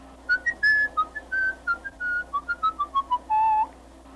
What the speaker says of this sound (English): Now whistle for me